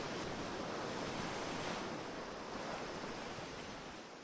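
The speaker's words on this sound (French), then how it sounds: "là où les vagues se rejoignent avec fracas" Ocean waves crash and churn in a violent maelstrom, a dense, continuous roar of surf and spray that stays loud throughout and eases only slightly at the end, with no voices.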